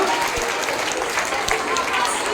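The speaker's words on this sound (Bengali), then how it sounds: "একটা জোরে হাততালি অপর্ণাদি এবং বিদ্যালয়ের ছাত্রীদের জন্য" An audience claps steadily at a girls' school annual program with acrobatic dance, a dense, even patter of many hands filling the short stretch without pause, with a slight murmur of the crowd beneath.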